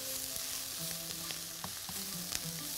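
Chicken fries in a lightly oiled pan while being stirred, giving a soft steady sizzle with occasional scraping clicks of the utensil, close and fairly quiet, with no talking.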